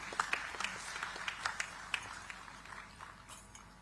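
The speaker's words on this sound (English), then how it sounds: "Let's welcome her with a huge round of applause, ladies and gentlemen." An audience at a digital technology event welcomes a speaker with scattered, moderately loud clapping that thins out and fades over a few seconds.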